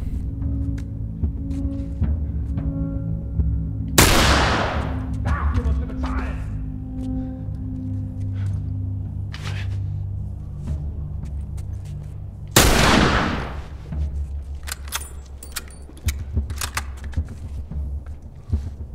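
Rifle gunfire in The Last of Us: two loud, sharp shots about nine seconds apart, each with a decaying tail, over a steady low ambient game drone.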